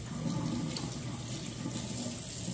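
Running tap water splashes steadily over crab legs being rinsed in a kitchen sink, a constant close hiss and patter with no breaks and no talking.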